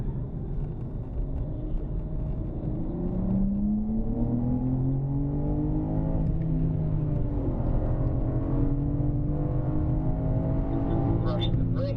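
A BMW M car engine revs and accelerates on a racetrack, rising and falling in pitch through gear changes, heard from inside the cabin while a driver speaks over it.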